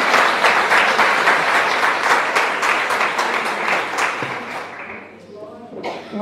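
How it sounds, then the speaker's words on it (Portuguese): Loud, dense clapping from a congregation at a church service rings out for several seconds, then tapers off abruptly near the end. "aplaude mesmo."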